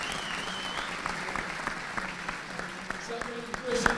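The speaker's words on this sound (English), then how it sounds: "so big round of applause for them" Applause from a crowd at a Munster Senior Schools Cup rugby final, a steady patter of clapping with a few louder claps, continuing for several seconds.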